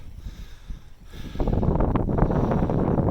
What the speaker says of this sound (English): The temperatures have dropped a wee bit and the wind has got up.